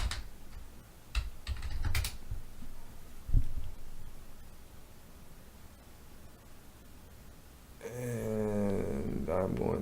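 Fingers tap out a file name on a computer keyboard, a few quick close clicks over a hissy background, followed by a spoken voice near the end.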